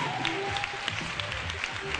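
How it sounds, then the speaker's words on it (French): Studio audience clapping for live musicians on a television variety show, a moderate patter of hands under faint background tones and a murmur of voices. "ça s'applaudit."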